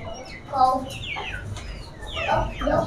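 Chicks and hens cluck and peep in a lively farmyard, their short calls repeating close by in uneven bursts and overlapping one another.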